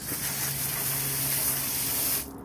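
A garden hose sprays water onto pool filter cartridges, producing a loud, steady hiss and splatter that runs continuously and then cuts off abruptly near the end.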